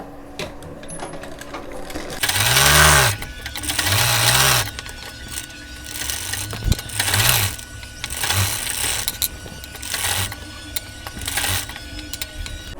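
A sewing machine stitches soft blouse fabric with a pinned lining in repeated short bursts of rapid mechanical whirring, separated by brief pauses and quiet handling sounds, close and fairly loud.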